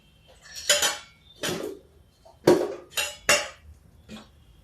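Metal pan on a gas stove and a spoon adding ghee while cooking a simple beans-and-peas vegetable dish, heard as six distinct clanks and scrapes of metal against metal, close and clear in a quiet kitchen with no talking.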